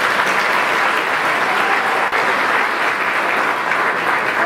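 Applause at a masquerade charity ball for a young man, a thick, even wash of many hands clapping, loud and continuous with a brief dip midway.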